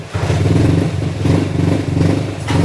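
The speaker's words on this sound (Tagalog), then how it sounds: "once yung throttle valve natin ay pinipihit mong ganyan nagbubukas yung throttle valve ayan kumapalya" A motorcycle engine runs close and loud, its steady throb stumbling and sputtering in uneven misfires as the throttle valve is opened.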